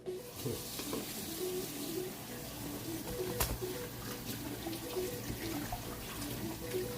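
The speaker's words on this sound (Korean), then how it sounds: "우선 이거 설거지 좀 할게요" Dishes being washed at a kitchen sink, with running tap water and steady clinking and scraping for several seconds.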